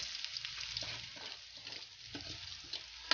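Ground chicken sautéing in a pan for palabok, a steady sizzle and frying crackle with faint stirring scrapes, close and continuous with no talk.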